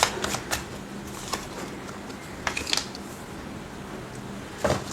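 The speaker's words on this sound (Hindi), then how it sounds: "तो चलिए पहले कार्ड्स निकालते हैं, फिर हम बात करते हैं क्या चल रहा है।" Tarot cards are shuffled and drawn in short, crisp riffles and flicks. A few brief bursts stand out against a quiet room background, close to the listener, with no voices.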